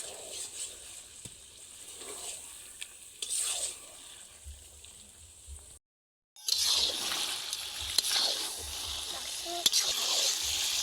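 Mutton being sautéed and stirred in a pan, a steady sizzle under a spoon scraping and stirring, briefly cutting out before returning louder and brighter with crackling spatter.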